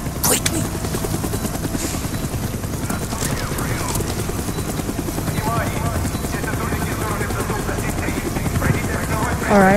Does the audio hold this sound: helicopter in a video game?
yes